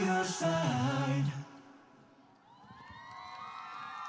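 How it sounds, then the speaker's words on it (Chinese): At an outdoor concert at the Penghu International Fireworks Festival, a live song ends abruptly and a distant crowd cheers and screams, with high whistles and shrieks rising above a soft wash of voices. "我们全场的尖叫声在哪里？"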